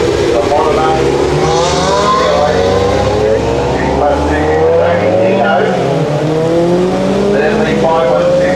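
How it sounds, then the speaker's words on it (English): Ferrari 512 TR Testarossa leads a group of Ferraris around the Manfeild race track, loud engine notes rising and falling as cars pass close by, under continuous commentary. "there's the 512 TR that's going to lead them out, the Testarossa"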